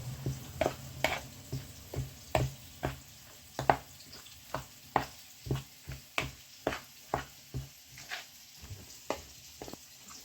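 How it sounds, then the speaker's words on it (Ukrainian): A spoon stirs a courgette mixture with egg in a bowl, giving a steady series of soft, regular scraping and tapping strokes, close and fairly quiet. "Це розмішуємо."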